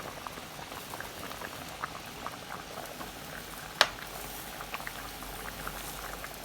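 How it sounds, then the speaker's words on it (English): Curry oxtail stew with scallion, thyme, garlic and peppers simmers in a pot, a soft, steady bubbling with faint pops and one sharper click partway through, quiet and close. "now is the time I'm going to add my scallion, thyme, garlic, peppers to the pot for it to cook down and simmer down"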